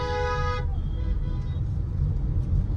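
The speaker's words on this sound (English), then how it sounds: "The horn sounds really good." A car horn gives one steady toot in a traffic jam, then the low rumble of idling and crawling traffic continues on its own.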